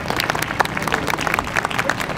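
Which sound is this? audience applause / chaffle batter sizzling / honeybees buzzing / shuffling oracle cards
audience applause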